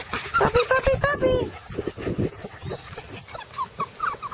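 A Shepadoodle puppy whines in a rapid run of high, wavering whimpers, then pants softly and steadily close by while a person talks over it.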